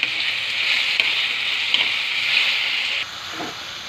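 Chicken neck pieces dropped into a hot pan, setting off a loud, close, bright sizzle that holds steady for about three seconds before easing to a softer fry, with a few small clinks and no talk.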